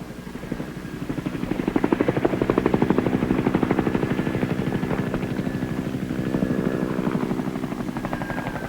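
A Cobra AH-1J attack helicopter flies nearby, its rotor blades chopping in a fast, steady rhythmic beat that swells and stays loud throughout, with no talking.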